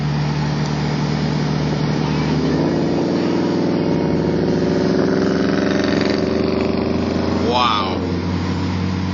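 An Audi S5 V8 idles with a deep, even exhaust burble, then is revved with a sharp rise and fall in pitch. Voices talk over it.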